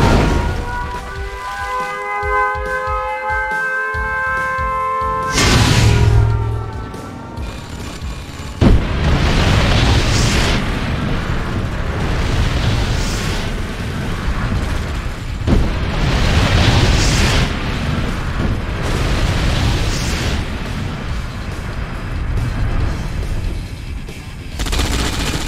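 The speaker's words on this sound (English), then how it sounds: "Warning, nuclear missile launched." A nuclear missile launch and detonation in Red Alert 2: a rising siren-like tone gives way to heavy booms, then a long stretch of rumbling explosions and gunfire-like crackle that swells and fades several times, loud and close, with no speech.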